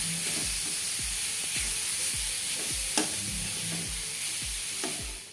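Beetroot and fresh coconut fry on a low flame with a constant hiss and sizzle, while a spoon stirs and scrapes the pan in a quick, regular rhythm, close and clear.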